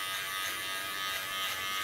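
An electric hair clipper shaves the nape of the neck, giving a steady close buzzing hum without a break through the short stretch.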